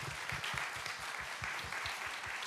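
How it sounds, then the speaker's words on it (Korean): An audience at a Korean talk-show taping breaks into dense, continuous applause, a loud, even wash of many hands clapping together with no pause. "박수 한번 주세요."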